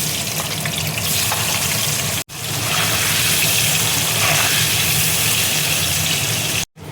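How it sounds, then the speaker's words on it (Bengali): Paneer frying in oil in a kadai gives a loud, continuous close-up sizzle and bubbling hiss, with stirring noises mixed in and no voices. "পনিরটা দেখো ভাজা হয়ে গেছে।"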